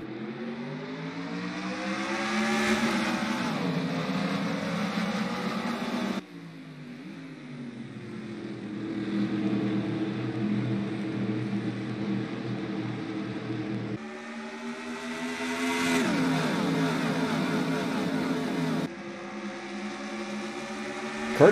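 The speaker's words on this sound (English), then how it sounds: "they will lead the field of 42 cars through the twists and turns of Watkins Glen" A pack of NASCAR stock cars roars through Watkins Glen, engines rising and falling in pitch as they accelerate, shift and pass, loud and sustained with several cuts between sweeping passes.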